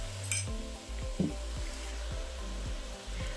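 Cabbage and garlic tossed in a soup pot, a low sizzle running underneath while several sharp clinks and scrapes of a utensil on the pot ring out at irregular intervals, close by.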